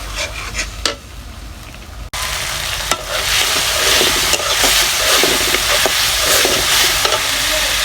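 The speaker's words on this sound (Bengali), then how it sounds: "এখন মশলাটাকে ভালোভাবে কষিয়ে নেব।" A spice paste is fried in a pan while being stirred steadily, giving a loud, close, continuous sizzle with rhythmic scraping strokes after a brief quieter start.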